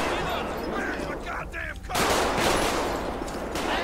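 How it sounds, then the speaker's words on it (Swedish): Heavy automatic weapon fire in the game GTA, sustained volleys of rapid shots with a short pause midway, then a louder renewed barrage; a voice talks briefly underneath. "Det är någon mer som skjuter på andra sidan bilen."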